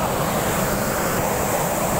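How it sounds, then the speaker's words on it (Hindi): Water falls steadily inside an HVAC cooling tower, raining down from the fill in a loud, continuous broadband rush with no pauses and no voices. "यहाँ से बरसात की तरफ पानी गिरता रहता ये मेरा कुलिंग टावर है"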